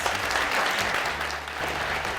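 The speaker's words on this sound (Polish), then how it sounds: "Brawa jeszcze raz." An audience applauding at an award gala, dense, steady clapping from a large crowd that fills the whole moment and tapers slightly near the end.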